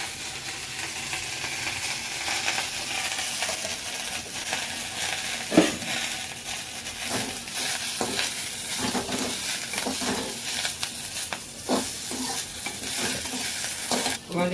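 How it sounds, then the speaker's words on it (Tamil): Thoothuvalai and coriander leaves sautéing in a pan give off a steady close sizzle and frying hiss, with irregular scraping stirs and occasional clinks throughout. "சேர்த்து கொத்தமல்லியும் போட்டு வதக்கலாம்."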